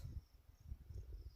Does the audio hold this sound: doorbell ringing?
no